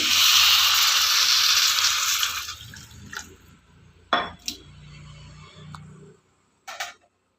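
Water poured into a pan of bottle gourd curry, a loud steady rushing pour for a couple of seconds, then fading into scattered drips, clinks and small splashes.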